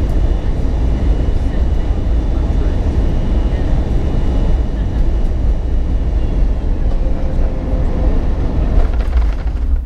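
A British Airways airliner just after landing at Heathrow, heard from inside the cabin: a loud, steady low engine and rolling roar fills the whole span with no break.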